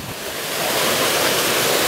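Kaeng Yui waterfall in Vang Vieng, Laos roars as a steady broadband rush of falling water, close and loud, building slightly at the start then holding even, with no talk.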